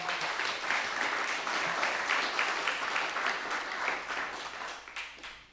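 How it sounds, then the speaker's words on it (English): A church congregation claps together during a sermon, a dense steady patter of many hands that holds for several seconds, close and fairly loud, then slowly thins out near the end. "Somebody clap like you're catching this today."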